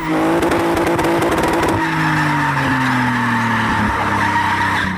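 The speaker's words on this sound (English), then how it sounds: "it also drifts well even on stock angle" A BMW E46 330ci with an M54B30 engine roars loudly while drifting, tires squealing and skidding in long, sustained screeches, close and intense throughout.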